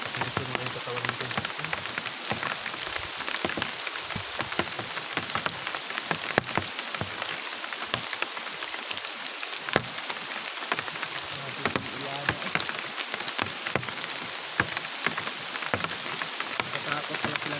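Steady, heavy rain patters and hisses on surfaces outdoors, a dense continuous wash of drops with occasional louder splats, with no voices.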